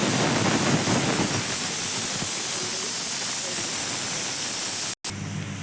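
Pressure cooker whistle venting steam while mutton pepper soup cooks, a loud continuous hiss filling the clip before cutting off abruptly near the end, then a brief quieter resumption.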